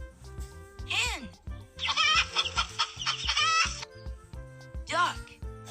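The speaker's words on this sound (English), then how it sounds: "Hen," A cartoon hen clucks in short bursts over a bouncy children's music backing, with a voice heard in between and a brief crowing-like call near the start and end.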